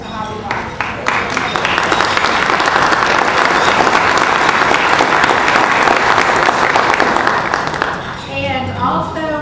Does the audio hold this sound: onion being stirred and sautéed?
no